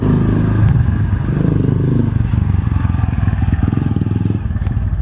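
Engine of a Honda Wave motorcycle converted to a manual transmission, running steadily with a dense low rumble and mechanical clatter during a test drive, close and fairly loud with no talk.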